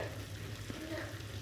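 Green chillies sizzle and fry in qeema (minced meat) with ginger, a steady close crackling hiss with faint stirring.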